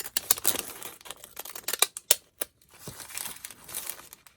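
Paper being trimmed for a journal, giving close, quiet crinkling and snipping rustles in uneven bursts, with short pauses between cuts and no talk.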